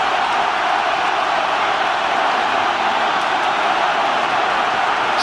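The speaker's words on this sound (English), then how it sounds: "Crowd absolutely roaring" A packed rugby stadium crowd at a New Zealand versus Ireland international roars in a dense, loud, unbroken wall of noise that holds steady throughout.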